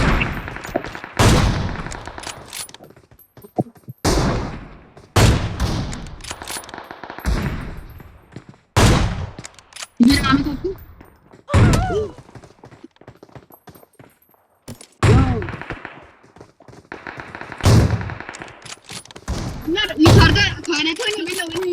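Repeated loud gunshots and bursts of gunfire from a shooting video game, sharp blasts arriving in irregular clusters while excited players talk over them.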